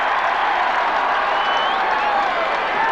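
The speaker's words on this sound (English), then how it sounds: "And the big home crowd here in St Tiernachs Park delighted with this" A big home crowd at St Tiernachs Park applauds steadily through a 1979 Ulster final Gaelic football match between Monaghan and Donegal, a broad, even wash of clapping with no single voice standing out.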